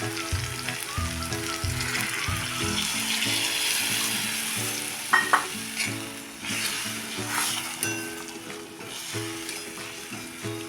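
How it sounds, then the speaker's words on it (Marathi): Water pours into a pan of sizzling spicy masala egg curry on a home stove, the frying hiss churning steadily with stirring clinks and a brief pop partway through, no talk. "त्यामध्ये आपण थोडं पाणी ओतणार आहे"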